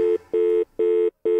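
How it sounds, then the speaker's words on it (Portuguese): A telephone ringing inside a children's cartoon song, heard as clean, loud electronic ring tones in regular pulses, about four short bursts separated by brief silences, with no voices. "E o telefone toca."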